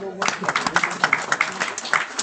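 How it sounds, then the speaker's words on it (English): An audience at an AI summit in India gives a round of applause to welcome a humanoid robot, with a steady stream of clapping bursts that stays fairly loud and close. "with a huge round of applause, I want to introduce Echo"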